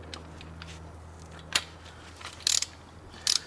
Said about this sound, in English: I use my regular 17 millimeter socket on my torque wrench that's set to 30 foot-pounds